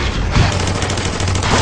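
Rapid gunfire from a dark movie fight scene involving glowing bullets, a dense, loud fusillade of overlapping shots lasting the whole moment without speech.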